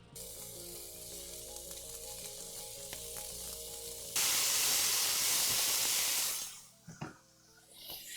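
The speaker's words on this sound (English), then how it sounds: "we're going to start adding the beef little by little, not going too crazy" Ground beef hits hot oil in a pan with a sudden loud hiss and sizzle that holds for a couple of seconds, then fades into softer crackling and a few knocks.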